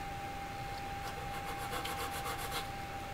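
Sanding stick rubbing on plastic model kit parts of a 1/48 Academy Su-27UB Flanker: a quick run of rhythmic, scratchy strokes near the microphone over a steady background hum, with no talking.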